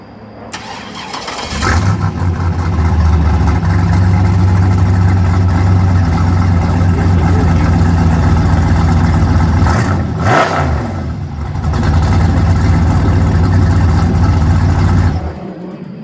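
A street race car's engine cranks and fires up, then roars loudly at a high steady rev, drops briefly to a lower idle around the middle, revs back up and cuts off near the end.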